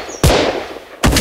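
Two loud, close gunshots from a shooting video game, each a sharp blast with a ringing tail, spaced under a second apart.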